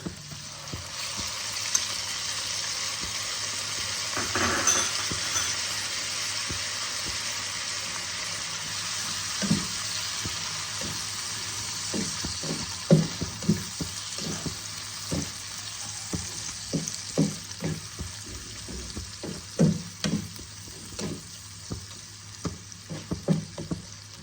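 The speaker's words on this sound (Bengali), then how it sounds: "এবার আমি মাংসের কিমাগুলোকে ছেড়ে দেব।" Minced mutton keema for Bengali street-style ghugni hits a hot pan and sizzles steadily, with the scrape and clack of stirring growing more frequent as it cooks, and no one speaking.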